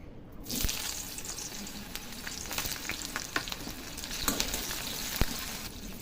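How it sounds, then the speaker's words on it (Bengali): Onions dropped into hot oil in a wok burst into a close, crackling sizzle that continues steadily, with scattered sharp pops and clinks of stirring, no speech. "তেলটা কিন্তু গরম হয়ে গেছে, আমি পেঁয়াজগুলো দিয়ে দেবো।"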